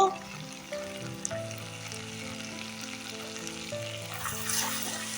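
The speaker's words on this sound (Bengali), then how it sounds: "একটু মশলাটা কষিয়ে নেব।" Ground cumin, coriander and salt frying in a pan for a crab curry, a steady close sizzle with soft scraping stirs throughout, no talking.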